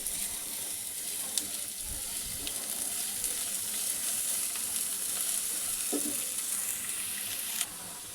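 Four large chopped onions frying in about two tablespoons of oil, a fairly quiet, even sizzle that runs throughout with a couple of soft knocks from the pan.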